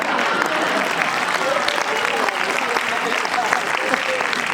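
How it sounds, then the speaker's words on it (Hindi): Sustained audience applause at a Hindi comedy poetry show (hasya kavi sammelan), dense steady clapping from a large crowd filling the whole stretch, with a voice faintly mixed in. "आप लोगों ने गलत जगह ताली बजा दी"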